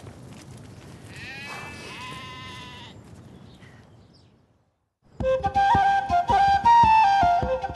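Older ewes bleat on a hillside farm in a valley in February, a few wavering calls at moderate distance over outdoor noise, then the bleating stops and music takes over.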